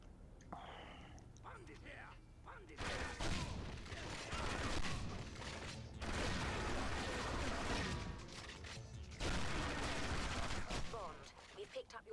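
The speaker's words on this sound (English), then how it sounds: "This gun just deletes people." Gunfire in the video game 007 Agent Under Fire, bursts of rapid shots in several long stretches with brief gaps, mixed with game noise and someone talking quietly over it.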